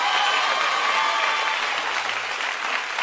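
Steady, even clapping from a church congregation fills the space with a dense, moderately faint wash of applause with no pauses.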